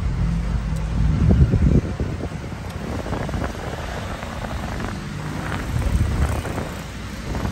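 A Toyota Hiace Deluxe van's air conditioner blower roars at full speed, a steady rushing whoosh of air close to the microphone with no talking.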